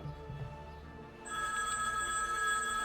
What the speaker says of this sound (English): we've got another phone going